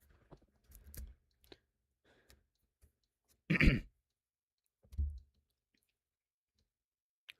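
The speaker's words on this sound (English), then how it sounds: "Needed to do that to clear my throat" A single throat clearing bursts out close and fairly loud in a quiet room, followed a moment later by a shorter, lower grunt-like clear, with faint clicks and mouth noises before it.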